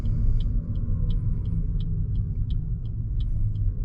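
A car idles and rolls to a gentle halt at a traffic light during a driving-test route in Riom, a steady low engine rumble with faint regular ticking above it, no talk.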